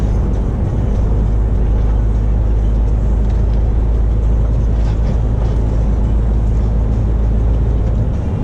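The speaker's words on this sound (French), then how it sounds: "l'autre comme il force sa voiture" A car engine revved hard close by, heavy low rumble droning steadily and loudly for the whole stretch with no pauses, no talk over it.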